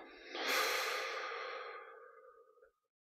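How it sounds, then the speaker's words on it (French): One long, slow breath out during a guided meditation breathing exercise, close and breathy, rising quickly then tapering off over about two seconds before silence. "On relâche le ventre et on expire."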